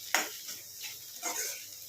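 Goat brain fry stirred in a pan, a few soft scraping strokes of a utensil against the metal with a faint sizzle beneath, close and quiet.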